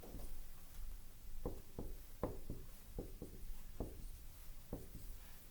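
A marker or chalk drawing on a board during a chemistry lesson on addition polymers: a quiet series of short, evenly spaced scratchy strokes over a soft background hiss.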